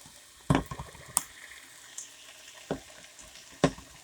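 Vegetables for minestrone soup sautéing in a pot, with scattered stirring clatters and soft sizzling at close range, no voices.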